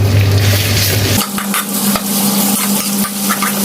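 Chili curry paste stir-fried in a pan for a wild boar stir-fry: loud, steady sizzling with scraping and clinking of a spatula stirring against the metal, close up and without speech.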